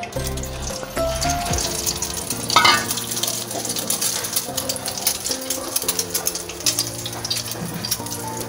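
Homemade burger patties hit hot oil and fry with a steady, fairly loud sizzle and crackle, with background music running underneath throughout.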